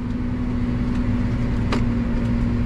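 A CLAAS combine harvester creeps along at about 5 km/h, its engine giving a steady, loud drone with a constant low hum and no pauses.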